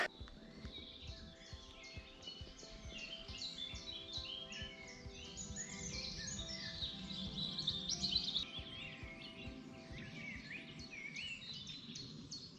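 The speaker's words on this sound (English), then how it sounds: "Lovely just to hear the birds." Several birds chirp and sing in varied, overlapping phrases, moderately near, in woodland along the Heart of England Way, over a soft continuous background hum.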